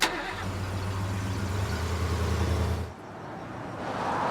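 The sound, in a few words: car engine running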